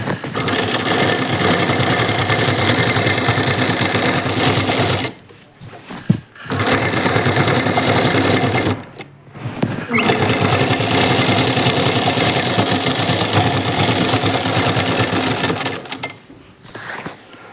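Sewing machine running in long continuous bursts while stitching the sleeves of a nightie, loud and steady, broken by two short pauses and a brief stop near the end; no talking.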